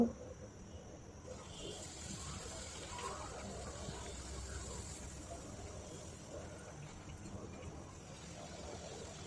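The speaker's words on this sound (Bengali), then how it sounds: "তো আমি একে একে এভাবে সবগুলা লুচি ভেজে নেব" Luchi made from wheat flour frying one after another in hot oil, a steady, continuous sizzling hiss that holds at a moderate level throughout with no voices.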